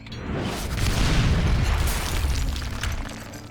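A mine explodes in the Western shooter Call of Juarez, a loud boom that swells and rolls on as a long, rumbling blast before slowly fading.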